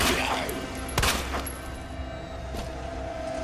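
Gunfire from the video game Resident Evil 2, with a loud sharp shot near the start and a few more bursts spread across a noisy, dense scene of rumbling game sound.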